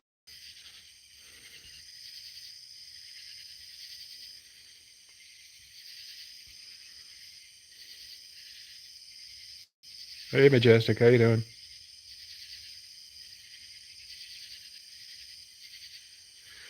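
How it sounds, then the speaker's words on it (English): Cicadas and a few crickets in a late-night Georgia setting keep up a steady, high, shimmering chorus throughout, broken once by a short burst of a man's speech partway through. "Those are actually cicadas."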